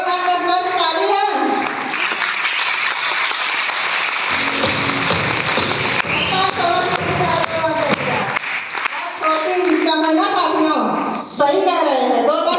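A crowd at a marketing plan presentation breaks into sustained applause, dense and loud for several seconds, with a voice speaking over it before and after.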